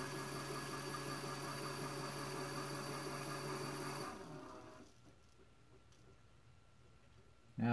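An automatic powder dispenser trickles Varget rifle powder, giving a steady faint mechanical hum and whir that cuts off about halfway through and leaves near silence.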